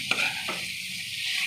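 Chicken sautéed in spices and yogurt for kosha sizzles softly in a pan, with a couple of brief stirring scrapes early on, fairly quiet and close, no voices.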